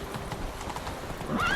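Horse hooves clip-clop at a steady trot in The Witcher 3 game, followed by a short neigh near the end, with a faint voice in the background.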